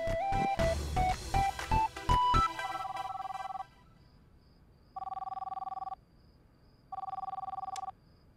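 A telephone ringing late at night, heard as loud tonal ring bursts: a rapid melodic run of tones for the first few seconds, then two separate steady rings with quiet gaps between them.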